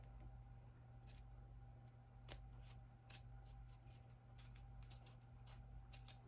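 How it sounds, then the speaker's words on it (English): Scissors snipping through material at close range, a series of short crisp cuts spaced irregularly over a quiet background hum. "I'm going to try with this scissor."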